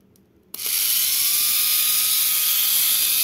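A Tamiya Mini 4WD 28,000 RPM motor switches on abruptly and spins at a loud, steady high-pitched whine that holds without letting up.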